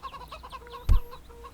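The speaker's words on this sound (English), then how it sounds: "We got some goats, and we got some chickens over here." Chickens clucking in the Second Life virtual world, a short burst of fowl calls standing out against a quiet farm ambience.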